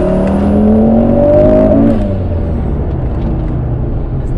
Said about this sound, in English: I love four-wheel drive acceleration, like, absolutely love it.